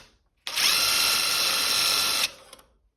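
A power drill drilling into wood whirs at a steady high pitch for nearly two seconds, close and loud, then stops abruptly and winds down.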